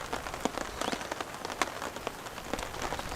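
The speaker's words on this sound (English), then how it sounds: "Camping in the rain, everyone." Rain falls on a camping tent as a dense patter of close, irregular drops tapping the fabric, fairly light and continuous.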